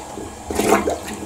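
A toilet flushes in a bathroom, a short rushing swirl of water that swells loudly and then drains, heard alone and close.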